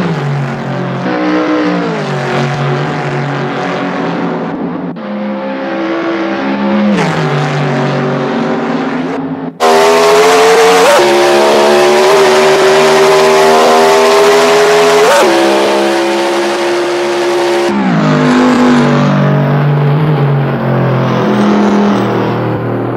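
A 2002 Chevrolet Camaro SS engine driving and revving loudly throughout, rising and falling through several gear pulls with a sharp surge near the middle, close to the microphone.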